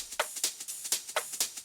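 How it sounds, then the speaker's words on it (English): A soloed ride cymbal from a dance track, with crisp metallic hits repeating at a steady quick pulse, each washing briefly before the next. "and then a little ride cymbal comes in later on,"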